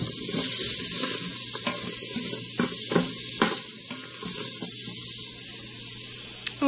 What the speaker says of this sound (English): So these are just sauteing down in there